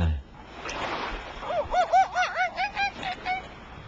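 Honking bird calls, goose-like, ring out in a quick rhythmic series of about eight nearby squawks beside a beach, following a moment of voices and background wash.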